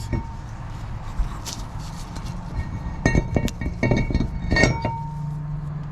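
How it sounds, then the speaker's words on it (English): Metal clinks and knocks ring out close by as a front brake rotor is fitted onto the hub of a 2016 Kia Sorento 3.3, in a short cluster of taps against a low background hum. "So now I'm gonna go ahead and install my rotor."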